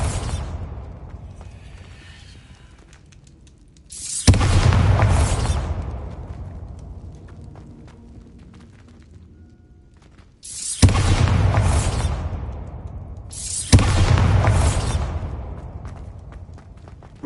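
Bombarda spell explosions in the Hogwarts Legacy game, three loud booming blasts, each a sudden heavy impact with a long rumbling tail that fades over several seconds, alone without talk.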